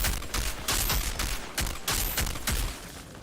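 Rapid bursts of gunfire from a sidearm in the Outriders shooter game, loud and close, with repeated sharp volleys and brief gaps across a few seconds.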